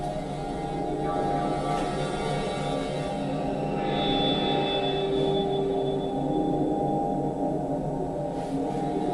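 A steady, dense electronic hum drones throughout, layered with faint whirring tones and thin high whines: the ambience inside the TARDIS from Doctor Who.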